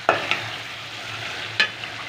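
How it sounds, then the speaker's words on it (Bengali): Spices with chilli and cumin fry in oil for keema, a steady sizzle broken by a couple of sharp scrapes of a spoon against the pan, close and with no voice. "1 চামচি লঙ্কা, জিরে, সব মিক্স করে ভুনে নিচ্ছি"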